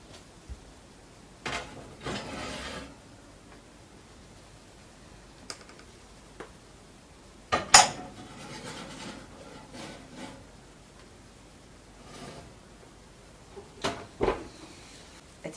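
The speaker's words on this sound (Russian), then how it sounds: "Это закрываю и кладем, отправляем в духовку" Clay cooking pots being lidded and placed into an oven, a few scattered clunks, taps and ceramic knocks with a louder clatter midway, against quiet background.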